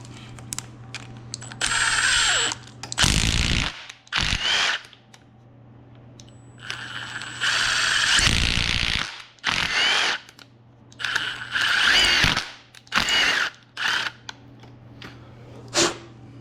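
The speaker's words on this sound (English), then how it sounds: "clean out those threads. And I just kind of run it in and out until it cleans it" A tap or thread-cleaning tool is run in and out of threaded holes in the front wheel or brake parts of a 2016 Honda CRF230F to clear old Loctite. It makes several loud, close bursts of grinding and whirring, with quieter gaps between them.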